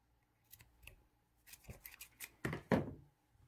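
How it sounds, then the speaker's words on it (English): Scissors snip through yarn during a Tunisian crochet project, a few quiet close snips at first, then a louder cluster of sharp cuts and rustling near the end, with no talking. "now we'll cut the yarn."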